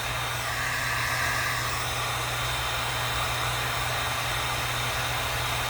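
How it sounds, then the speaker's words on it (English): A cordless heat gun gives a steady, loud rush of blowing hot air with a constant motor hum, continuous and unchanging throughout. "I really love my heat gun too."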